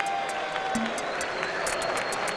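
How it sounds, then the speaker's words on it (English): An esports event audience applauds in a steady wash of clapping, with a few sharper claps standing out near the end. "How about a round of applause?"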